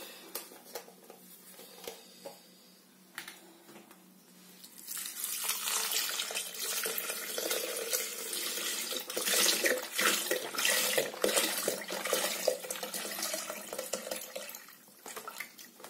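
Plant-based rice milk pours into a pot for chocolate dessert cream, starting as a faint trickle and swelling into a steady, splashing liquid stream that lasts about ten seconds, with no talking.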